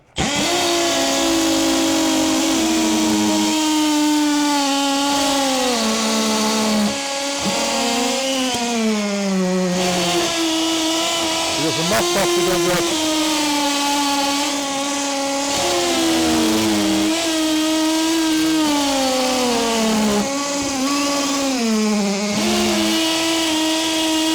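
Milwaukee M12 cordless drills run in hammer mode at speed 2, a loud, continuous buzzing whine with pitch dipping and recovering as the bits bite, sustained without pause from start to finish.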